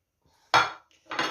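Fried capelin being tipped into a fairly large bowl in a home kitchen: two separate close, sharp clattering bursts of fish and utensil against the dish, with near silence around them.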